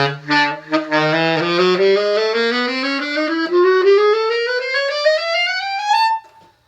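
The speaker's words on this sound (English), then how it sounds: "So, if I play the chromatic scale, which has every note of the saxophone on it, it'll sound something like this." A saxophone plays a chromatic scale, a steady run of notes climbing step by step, each note sustained and bright, ending on a high held tone.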